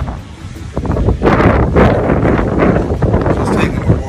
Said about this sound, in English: It's hella windy out here.